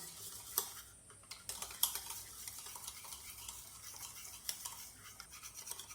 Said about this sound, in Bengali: এবার একটা হ্যান্ড উইচের সাহায্যে আমি টক দইয়ের সঙ্গে চিনিটাকে খুব সুন্দর করে মিশিয়ে নেব